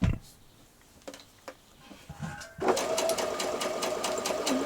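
Sewing machine stitching a T-shirt hem with a twin needle, a few scattered clicks and handling noises, then the motor starts and runs steadily at a moderate, even pace, loud and close.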